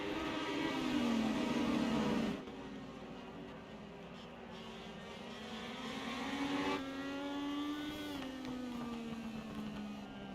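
Race cars in the iRacing sim roar around a fairgrounds oval during a Rolling Thunder series restart, a continuous engine whine that rises and falls in pitch as the cars sweep through the laps.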